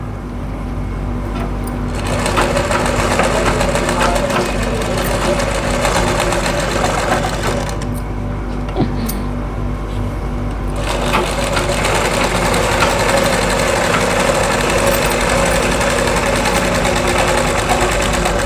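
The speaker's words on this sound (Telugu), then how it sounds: "ఎడ్జ్లో గట్టి కుట్టేసేస్తాం." A sewing machine runs in fast continuous bursts while stitching an invisible zip, a loud buzzing mechanical whir with brief pauses and restarts, no one talking.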